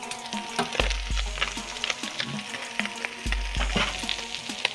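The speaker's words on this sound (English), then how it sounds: "It's time to add in the pasta and the sauce" Pasta and sauce sizzle in a frying pan with ground beef and vegetables, a close steady frying hiss broken by repeated scraping and stirring knocks from a utensil against the pan.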